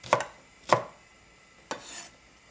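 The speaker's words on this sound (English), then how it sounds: "I'm going to cut that into slightly bigger chunks" Spring onion whites and greens being chopped into chunks with a knife: two sharp, close board strikes about half a second apart, a pause, then a third strike trailing into a brief scrape.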